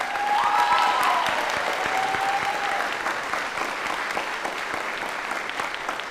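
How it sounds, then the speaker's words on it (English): Audience at an honors convocation applauding in a steady round of clapping that fades slightly toward the end, with a brief voice early on. "Let's give them one more round of applause."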